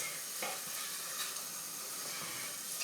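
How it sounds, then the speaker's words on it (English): Green chili sautés in a pan for a kidney bean curry, producing a soft, steady sizzle with light stirring clicks, fairly quiet and without speech. "And then you add your green chili. I want some spice, so I'm definitely adding that in, and we saute it."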